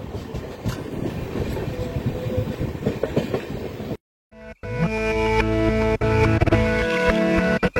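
The Pinakini Express rolls along with steady rumbling and rhythmic wheel clatter, loud and close. After a brief drop-out the sound returns as a heavier drone with tonal hum and sharp clanks.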